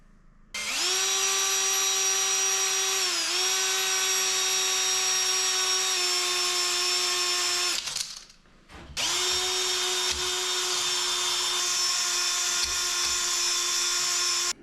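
A drill-driven hone working inside a cylinder of a Kubota diesel tractor engine, a loud steady whirring drone that dips briefly in pitch, cuts out for a moment, then resumes at full speed.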